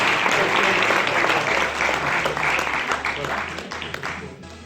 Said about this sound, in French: Encore les applaudissements, s'il vous plaît.